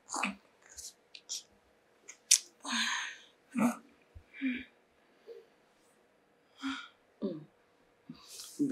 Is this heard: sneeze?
yes